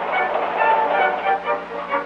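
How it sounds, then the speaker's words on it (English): Freight cars are switched in a busy rail yard, a moderately loud rumble of rolling wagons with faint metallic squeals and a shifting, uneven texture. "Again a train broken up, cars switched, classified according to destination"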